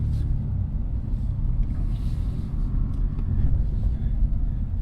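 A BMW M2 Competition engine rumbles low and steady from inside the cabin while the car reverses, a constant deep drone with no talking.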